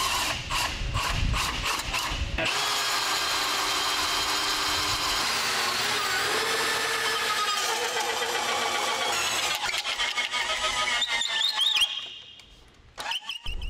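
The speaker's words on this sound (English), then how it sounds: "to drill or bore a hole almost vertically through the rudder stock for the trim tab shaft to pass through" A power drill bores a hole almost vertically through a wooden rudder stock for a trim tab shaft, running in a loud, sustained whine with short bursts at the start and a pause near the end.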